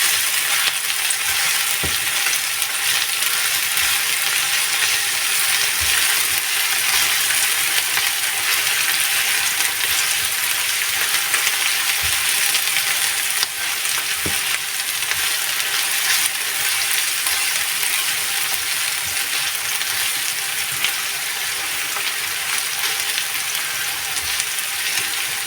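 Onions frying in a pan until reddish-brown for a Malabar spinach (pui shak) stir-fry, a steady, dense sizzle throughout with occasional faint clicks of stirring.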